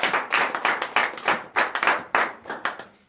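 A congregation claps during morning prayer in Benin. The claps come in a distinct rhythmic pattern of short, sharp bursts, close and fairly loud, with almost no voices.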